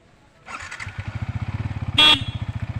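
A new motorcycle starts moving with a rhythmic, throbbing single-cylinder engine beat, close and steady, briefly overlaid by a loud horn honk partway through.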